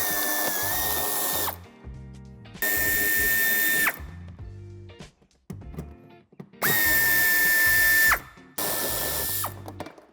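A ratchet driver works a 10 mm head bolt on a 2019 Opel Zafira Life in four loud, close bursts of whirring, clicking mechanism noise, each stopping abruptly, separated by short quiet gaps with faint handling clatter.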